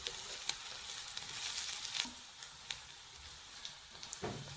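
Onion frying in a pan, a continuous fine sizzle with scattered crackles and spits, fairly faint and close, with no voices.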